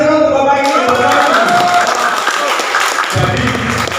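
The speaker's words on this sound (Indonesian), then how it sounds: "Tepuk tangan dulu Bapak ini." An audience at an oil and gas policy seminar gives a brief round of clapping, loud and close, blended with a voice talking over it.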